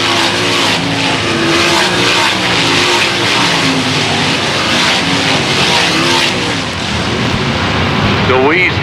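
Race cars roar around a dirt oval track, several engines loud and continuous, with revs rising and falling as they pass. An announcer talks over the racing.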